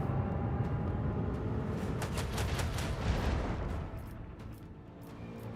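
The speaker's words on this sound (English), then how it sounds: "Should I perhaps go here and fire more guns at it?" Macro cannon gunfire from a starship in the Warhammer 40K Rogue Trader video game, a run of rapid booming shots that rumble and then fade into a low drone.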